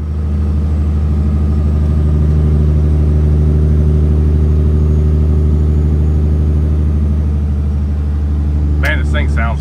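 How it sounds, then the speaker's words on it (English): A Western Star 4900 truck with a Cat C15 diesel engine driving down the road, giving a loud, steady low engine drone throughout, with a short voice near the end. "listen to the sound of a C15."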